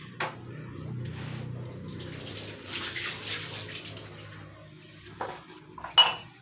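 A cooking pot meant to hold three gantang is handled near running water, with clinks and clatters of cookware and utensils, a few sharper knocks near the end, and no talking.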